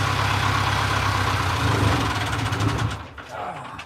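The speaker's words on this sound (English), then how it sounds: "I'll turn the engine off here." A fishing boat's engine idling off the coast of Alaska, a loud steady low rumble with a knocking pulse that runs for a few seconds, then drops away sharply as it is shut off.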